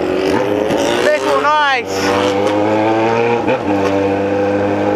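A Honda CB1000 motorcycle with a straight exhaust pipe sits close by, its engine droning steadily, with a quick rising and falling rev partway through. Someone speaks briefly over it.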